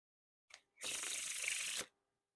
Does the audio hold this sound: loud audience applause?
no